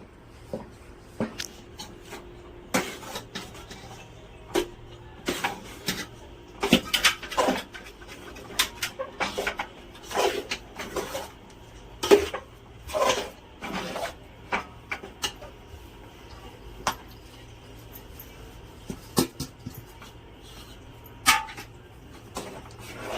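Crushed ladoo crumbs being stirred into hot sugar syrup in a pan with the gas switched off, giving repeated scraping, rubbing strokes of a spoon against the pan at an irregular pace, fairly close and moderately loud.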